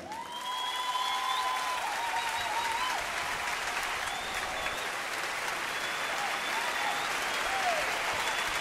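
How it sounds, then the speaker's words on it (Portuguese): Concert crowd at a live performance by a singer breaks into sustained, steady applause, a loud dense wash of clapping lasting several seconds with faint whistles and cheers mixed in. "Minhas senhoras e meus senhores, eu pedi um forte aplauso"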